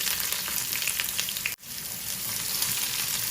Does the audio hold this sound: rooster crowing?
no